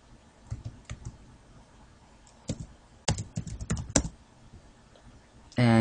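Typing on a computer keyboard: scattered bursts of sharp key clicks, some isolated and some in quick runs, close and fairly loud, ending in a brief louder burst of noise.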